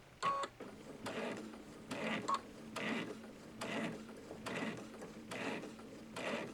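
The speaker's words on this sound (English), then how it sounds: "I'm going to remove the sticker and stitch" A Babylock Solaris 2 sewing machine stitches at a slow, even pace, giving a soft, regular mechanical pulse of about one beat per second, quiet and close, with a faint beep near the start.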